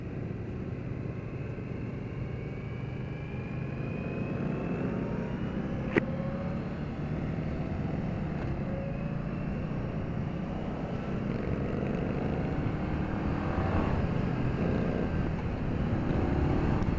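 A 2015 Indian Scout motorcycle engine drones steadily throughout a test ride, a continuous low rumble with wind noise, rising slightly in intensity toward the end, with one sharp brief click near the middle.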